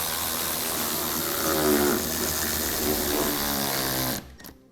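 A power tool whirs continuously and up close, tightening splash shield bolts while a base plate kit goes onto a 2013 Cadillac SRX, then cuts off abruptly near the end.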